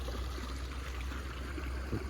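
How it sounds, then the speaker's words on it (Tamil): Irrigation water flowing steadily into a farm garden plot, a continuous rushing and trickling wash with a low rumble underneath that stays even throughout, with no talking. "இங்கே இருந்தால் தோட்டத்துக்கு ஃபுல்லாக தண்ணி பாயும்"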